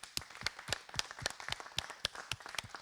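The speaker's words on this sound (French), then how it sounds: "Merci à l'élite Nigel qu'on applaudit très très fort." Live audience applause after a slam poetry performance, scattered sharp claps in a fairly quiet, moderately distant burst with no talking.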